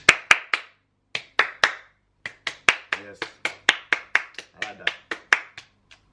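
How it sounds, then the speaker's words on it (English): Hand claps ring out in loose bursts, a few quick claps, a pause, then a steadier run of single claps from a small group or one person, close and sharp, with a voice briefly underneath. "I want a round of applause."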